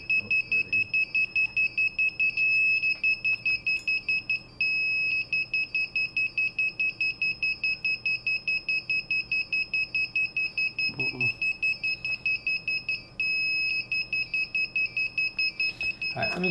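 A DJI Digital FPV controller's buzzer beeps in a rapid, relentless high-pitched series of evenly spaced pulses, loud and close, with two short gaps, while someone talks faintly now and then.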